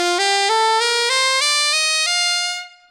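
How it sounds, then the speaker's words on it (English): D Mixolydian scale played upward on a single bright, sustained instrument, a steady run of about eight notes that rises evenly and then rings out, close and alone. "So the Mixolydian mode has a flat seventh, and that sounds like this."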